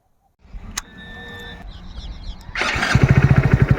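A motorcycle in a parking area coughs to life, then its engine settles into a steady, throbbing idle and revs as the bike pulls away, loud and close.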